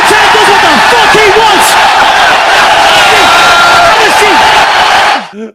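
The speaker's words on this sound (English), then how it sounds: "listen to Salt Lake City cheering" A large arena crowd in Salt Lake City roars and cheers at full volume, with shouts and whoops rising throughout and someone talking loudly over the din before it cuts off.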